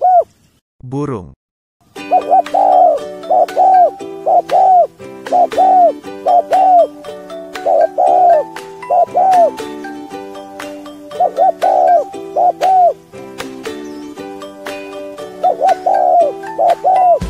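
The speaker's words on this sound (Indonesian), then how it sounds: "Burung." Repeated cooing bird calls in short bursts over a steady musical backing, part of an animal-sounds learning sequence; the calls come loud and close in rhythmic groups through most of the stretch.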